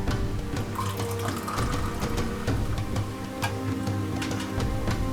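Mountain Dew White Out soda pours from a freshly cracked bottle into a glass, a continuous close fizzing, splashing stream lasting several seconds.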